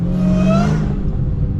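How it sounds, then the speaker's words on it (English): A Lamborghini Aventador accelerating hard close by, a loud rising engine roar with a climbing whine that peaks in under a second and then fades into a steady rumble as the car pulls away. "that Aventador took off"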